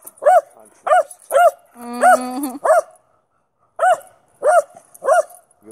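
Two dogs bark while playing, sharp barks in quick bursts broken by a brief high whine and a short pause, loud and close.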